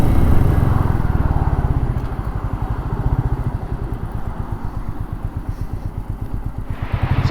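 A Royal Enfield Meteor 350 motorcycle engine while riding, its single-cylinder thump pulsing in a steady, rapid rhythm, loud and close with wind noise, the beat settling into an even cadence.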